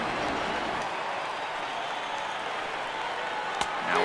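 A stadium crowd of over 39,000 in MLB The Show 18 stands and cheers during a 1992 Cubs versus Cardinals game, a steady, broad roar of applause filling the whole stretch with one sharp knock near the end.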